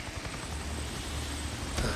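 A helicopter in the video game Days Gone thrums steadily in the background, a faint continuous rotor chop with a brief louder swell near the end.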